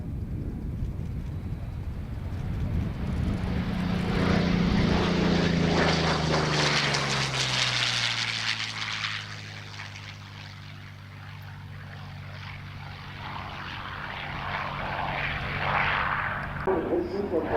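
A P-40N Warhawk propeller warplane making a pass at an airshow, its engine drone swelling as it nears, the pitch sweeping downward as it passes, then easing off and building again, with an announcer talking over the PA throughout.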